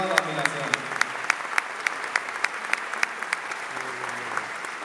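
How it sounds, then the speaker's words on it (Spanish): Concert audience in Bogotá applauds for two performers from Medellín, a dense sustained clapping with some sharp individual claps standing out, and a low tonal hum and faint voices running underneath. "Se merecen ellas un fuerte aplauso y toda la admiración."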